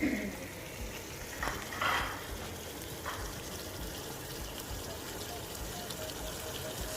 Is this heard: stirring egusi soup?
yes